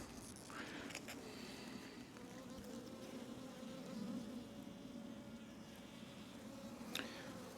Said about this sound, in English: Bees are buzzing me a little bit.